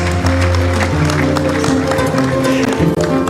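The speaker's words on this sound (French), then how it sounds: "Encore une fois, nous vous demandons de l'applaudir." Applause from the audience at a closing ceremony in a large hall, a loud, dense and steady clatter of clapping lasting several seconds, with a voice on a public-address system over it.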